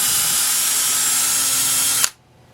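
A power drill fitted with a 9/32 bit bores into wood for a drawer headphone hook, whining at an even pitch for about two seconds before cutting off abruptly into quiet.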